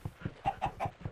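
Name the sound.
chicken clucking in a video game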